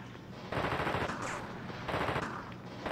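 Automatic gunfire in The Thing video game on the original Xbox, two loud sustained bursts of rapid shots with a short gap between them, no talking.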